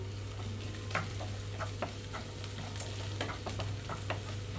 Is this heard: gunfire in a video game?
no